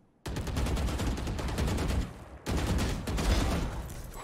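Rapid automatic gunfire in Valorant, a dense, loud burst of shots lasting about two seconds, a brief pause, then another sustained volley, close and punchy with no talk.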